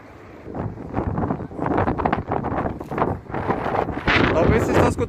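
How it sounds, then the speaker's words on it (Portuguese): Strong wind buffets the microphone in gusty, roaring bursts on a bridge overlook in Florianópolis with boats and water nearby, loud and close throughout, briefly intensifying near the end, while someone talks over it. "Talvez vocês estão escutando um barulho de vento aí. Porque aqui venta muito, muito, muito, muito."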